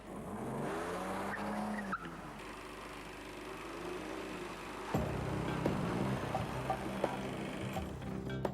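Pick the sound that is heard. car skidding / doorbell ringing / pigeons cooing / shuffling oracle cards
car skidding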